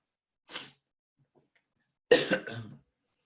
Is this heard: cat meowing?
no